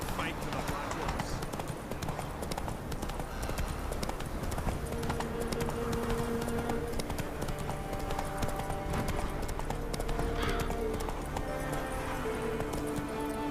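Horse hooves clip-clop at a steady gallop in The Witcher 3 video game, loud and continuous, with game music and a rider's voice over them.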